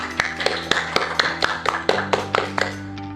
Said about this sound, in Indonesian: Marilah kita berikan tepuk tangan yang meriah untuk para ibu ketua RW wanita di Kelapa